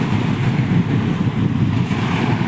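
Sea waves wash up over the sandy shore in a steady, close roar of surf, with gusts of wind buffeting the microphone throughout and no talking.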